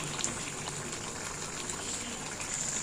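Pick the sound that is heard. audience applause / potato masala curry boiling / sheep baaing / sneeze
potato masala curry boiling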